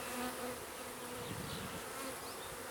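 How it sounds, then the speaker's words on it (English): Honey bees from a newly installed colony buzz around their black-marked queen, a steady, dense drone of many wings close by that carries unbroken through the whole stretch with no voices. "I saw a pile of bees there"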